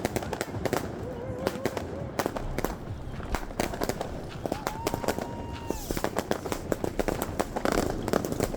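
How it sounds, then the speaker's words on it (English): New Year's Eve fireworks in Berlin: dense, rapid bangs and crackling firecracker pops, some close and sharp, others distant, with a rising whistle among them and faint voices underneath. "I'll play some footage of the fireworks for you right here"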